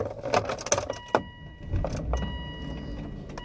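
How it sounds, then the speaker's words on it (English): Keys jingle and clack, then a car engine turns over and settles into a low, steady idle nearby, with no talk over it. "so I might turn my car on"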